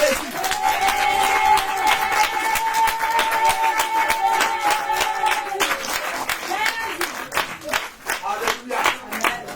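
A church congregation at a prayer and deliverance service bursts into sustained applause and acclaim, with a loud, dense crowd of clapping and voices under a held musical tone that gives way to sharper, scattered claps.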